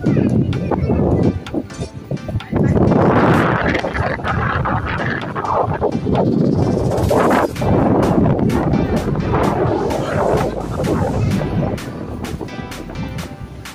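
Strong typhoon wind from Typhoon Ma-on roars and buffets the microphone in heavy gusts, loud and continuous, with sharp bursts near the end.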